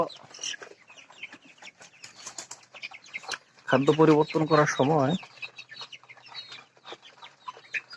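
Tiger-breed broiler chickens, about 32 days old, cluck and flap close by while rushing at a newly set feed tray after being held off feed, with a loud burst of squawking midway and someone talking over much of it.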